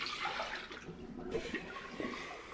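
Fresh water pours steadily into a kettle or coffee maker in a home kitchen, a soft continuous splashing flow that is fairly quiet and unbroken, with no talking.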